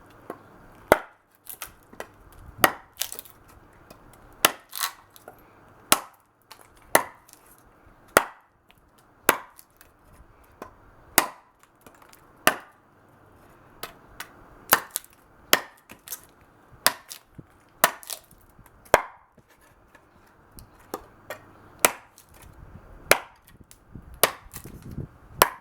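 An SQ 52100 9-inch chopper with a thin edge strikes a pine 2x4 again and again, each blow a sharp, close woody thunk in a steady, slightly uneven rhythm with short quiet gaps between strikes.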